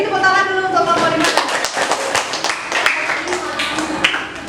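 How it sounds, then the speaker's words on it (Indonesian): Children in a classroom clapping for a group of classmates, scattered uneven hand claps and taps that thin out over a few seconds, with voices talking alongside. "Beri tepuk tangan dulu untuk kelompok 5."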